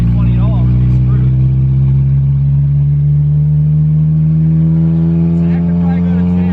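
A beater car engine revs off idle, producing a loud, continuous rasping roar whose pitch climbs slowly. Voices talk over the engine noise.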